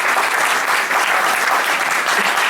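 Steady, dense applause from an audience at a Hindi poetry recital, a kavi sammelan held in Houston, rising as continuous clapping that holds at full volume for the whole stretch with no voices over it.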